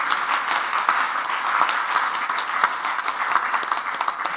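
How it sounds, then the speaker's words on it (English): Steady applause from a crowd at a meeting fills the whole stretch, a dense patter of many hands clapping at an even level. "So a big round of applause to all of you."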